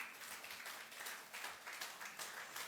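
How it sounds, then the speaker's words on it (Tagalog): A church congregation applauds the Lord during a worship service, a thin, steady patter of clapping that sounds light and scattered, without any voices over it. "Palakpakan po natin ang Panginoon."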